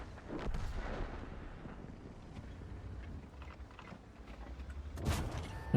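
Tank cannon shots in World of Tanks while driving an AMX 13 90 light tank: a deep booming blast near the start and another sharp shot near the end, over steady low engine rumble and wind-like noise.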